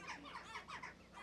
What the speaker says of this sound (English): Hear the birds nesting up there